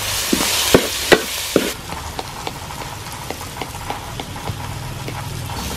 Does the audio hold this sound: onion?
yes